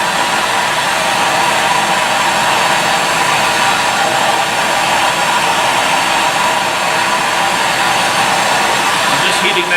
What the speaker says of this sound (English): let's fire up the torch